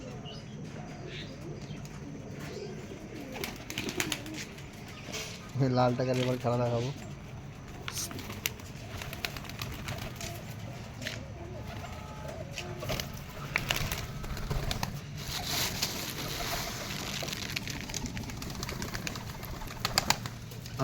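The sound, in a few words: pigeons cooing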